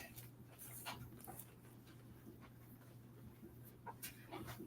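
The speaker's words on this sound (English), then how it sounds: "Sorry for the dogs in the background." Several dogs pant and whimper faintly in the background of a quiet home, with a few short yelps and a low steady hum underneath.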